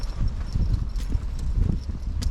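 Horse hooves clip-clop in an uneven, steady rhythm on a hard surface in Manorhamilton, County Leitrim, fairly close, with low rumbling in the background.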